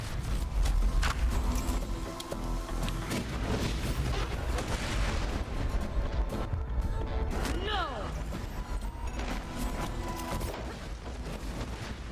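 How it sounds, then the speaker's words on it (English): Explosions and gunfire rumble through a Borderlands 2 firefight, a dense, loud, continuous barrage of booms and crashes with someone talking over it. "And there's that explosion."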